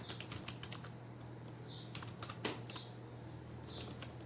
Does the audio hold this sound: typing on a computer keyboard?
yes